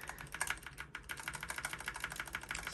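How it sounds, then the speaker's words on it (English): Rapid, even clicks of a single key being pressed over and over on a computer keyboard while a PC boots, a close, crisp tapping run with no talk. "I'm just going to keep clicking the delete key"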